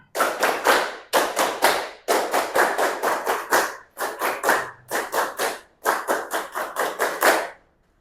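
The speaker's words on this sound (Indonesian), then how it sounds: "Tepuk semangat." A classroom of students performs a rhythmic clapping ice breaker, crisp unison claps in short patterned bursts with brief pauses between phrases, loud and close, with no talking.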